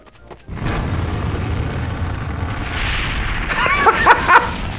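A Tsar Bomba rocket launches in Garry's Mod, a sudden loud roaring rush that swells and rumbles steadily for several seconds with crackling bursts near the end.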